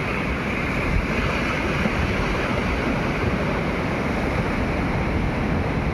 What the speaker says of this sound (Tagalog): Maingay itong dagat, yung kanang alon.